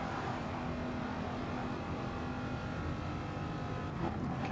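Corvette and Porsche Gr3 race cars lapping Suzuka in a racing video game, a dense continuous engine roar holding steady with no voices over it.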